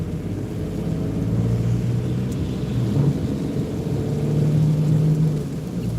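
Steady rain on a car driven at night, a dense continuous wash of patter over low engine and road rumble, constant and fairly close with no voices.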